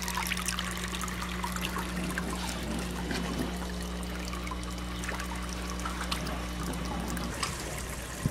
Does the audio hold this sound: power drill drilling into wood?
no